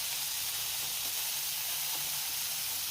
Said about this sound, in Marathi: व्यवस्थित फ्राय करून घ्यायचं आहे।